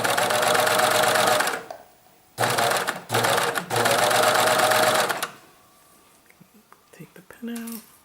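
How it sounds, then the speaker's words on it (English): A cover stitch sewing machine hems dress sleeves in loud, fast bursts of rapid mechanical stitching, stopping briefly between runs, followed by quieter handling clicks and rustles near the end. "I'm using the cover stitch to hem the sleeves"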